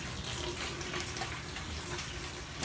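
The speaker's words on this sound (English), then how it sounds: "Turn a little bit of warm water on to let it dissolve." Warm water runs from a tap to dissolve flower food while arranging Valentine roses, a soft, steady splashing flow heard close and alone, without talk.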